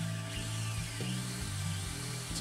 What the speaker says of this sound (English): now we're drilling the holes